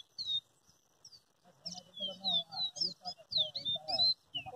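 A caboclinho seedeater sings a series of clear, high, sweet whistled phrases at a bird-catching gathering, while someone talks quietly underneath.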